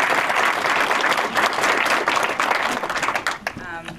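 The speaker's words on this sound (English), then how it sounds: "another round of applause for Chris," Dense audience applause for the speakers at a civic practice symposium on arts and philanthropy: loud, continuous clapping that thins out near the end as a voice begins.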